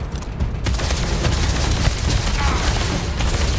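Explosions and gunfire in the video game Starfield form a loud, dense barrage of booms and rapid shots that runs without a break throughout.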